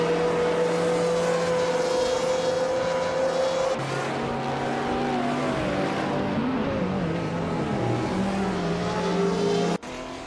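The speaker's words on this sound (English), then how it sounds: "1969 Dodge Charger Daytona, a vintage street car known for its iconic design and powerful V8 engine" A 1969 Dodge Charger Daytona with a V8 engine racing in a video game, its engine droning loud and steady with pitch shifts through gear changes, tire squeal mixed in, and a sudden cutoff near the end.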